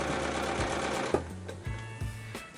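A sewing machine stitches a fabric strip close beside a rope for a fabric-scrap necklace, running steadily in close, clear bursts with brief pauses and changes in speed.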